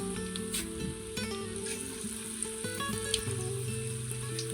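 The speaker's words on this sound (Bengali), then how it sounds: "প্রথমবার ভাজা হচ্ছে, আবার দ্বিতীয়বারও ভাজতে হবে, তাই তো?" Meat for do pyaza fries in a pan with a steady, moderate sizzle, close by and without talk.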